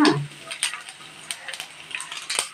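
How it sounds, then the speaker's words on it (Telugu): Garlic fries in oil alongside dried red chilies for a broad bean dish, producing a quiet sizzle broken by scattered crackles and light utensil clinks, close by. "వేగింది, కొంచెం తెల్లగడ్డ కూడా వేగిన తర్వాత"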